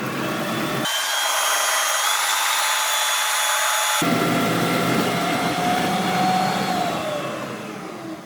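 Carrots being grated for carrot cake, heard as a continuous loud whirring, rasping machine noise that cuts out briefly into a thinner hiss, then resumes and fades slightly at the end.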